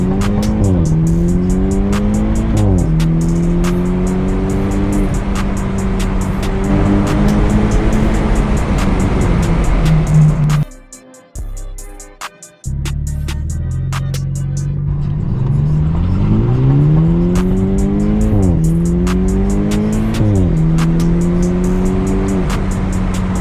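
A BMW F22 228i with the N20 turbo four revs hard from a standstill, climbing through several gears with rising, falling engine pitch and a brief lift between runs. Loud, close in-cabin sound.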